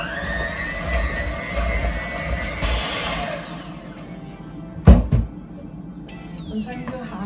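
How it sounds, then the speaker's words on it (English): A stand mixer beating butter and sugar at medium-high speed whirs in a loud, steady drone for a few seconds, then winds down and stops, followed by a single clunk. "I'm gonna use a stand mixer to mix it all up"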